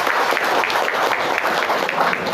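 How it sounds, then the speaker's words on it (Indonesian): Indonesian audience applauding at a neighborhood office gathering introducing a new village head, a steady dense wash of clapping throughout with no clear voices on top. "Tepuk tangan buat kita semua."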